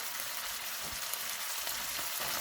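Home-canned sausage browns in a pan with a dense, even hiss of sizzling fat, close and steady throughout with no voices.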